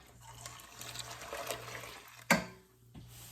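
A warm mixture of water, milk and melted butter pours into a mixing bowl in a kitchen, a soft steady liquid stream followed by a sharp splash and then a gentle trickle as the pour tails off, heard close with no talking.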